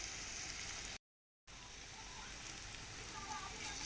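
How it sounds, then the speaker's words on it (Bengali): Pieces of jackfruit seed dhoka fry in hot oil in a wok with a steady close crackling sizzle, cut off by a brief silent gap before the hiss resumes. "কড়াইতে তেল গরম হয়ে গেছে, এখন আমি এগুলো ভেজে নেব।"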